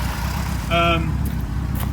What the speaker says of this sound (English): So you can see the car's idling mint, absolutely perfect.